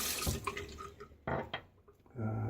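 Tap water runs and splashes in short bursts as a face is rinsed at a sink after a shave, interrupted by quiet gaps, close and alone with no speech.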